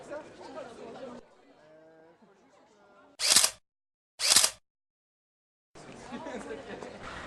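Two crisp shutter clicks from a camera taking a souvenir photo during a break in a city sports race, spaced about a second apart between stretches of crowd chatter and talk.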